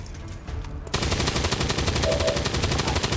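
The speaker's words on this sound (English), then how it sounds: "Reload, shoot, move." Soldiers firing in the video game XCOM 2, a sudden loud burst of rapid automatic gunfire breaking in after a quieter moment and rattling on without pause.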